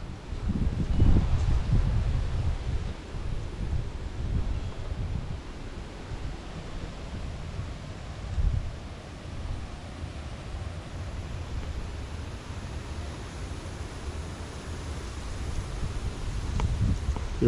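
Strong wind roars steadily across the microphone, with heavier gusts buffeting it near the start and end; no voices.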